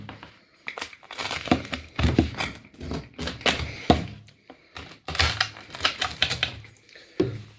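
Knife or cutter crunching through a crisp-crusted spicy pizza on a metal cookie sheet, a run of close, uneven crackling and scraping strokes in bursts with brief pauses.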